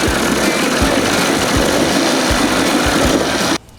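Outboard boat motor idling while warming up after a flush and thermostat replacement, a loud, close and steady running drone with faint low thumps repeating about every half second, stopping abruptly near the end.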